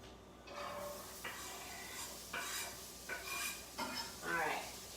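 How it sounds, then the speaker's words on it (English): Onion is stirred in a cooking pan, with repeated scraping strokes of a utensil against the pan over a soft sizzle, each stir clear and close at a quiet overall level. "let me stir up my onion"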